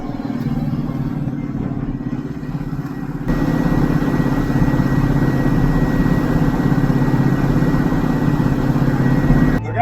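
A Valtra T235 tractor drives along a road, its engine giving a steady, loud rumble throughout that grows slightly stronger partway through, with no talk over it.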